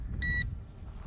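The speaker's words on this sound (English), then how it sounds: "there's a beep coming out for the remote control" A ZLL SG908 KUN three-axis gimbal drone's remote control gives a single short, clear electronic beep over a low, steady background rumble.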